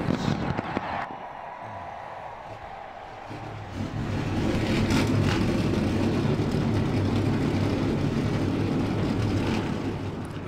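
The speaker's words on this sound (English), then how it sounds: "Drivers, start your engines!" Race car engines starting up in the video game NASCAR Racing 2003 at Homestead, a low heavy engine roar that swells after a few seconds into a steady, loud, sustained drone of several cars.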